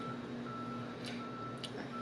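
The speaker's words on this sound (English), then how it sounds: "Got a beep going." Steady electronic beeping with a sustained high tone, like a reversing alarm, persists throughout against a low background hum.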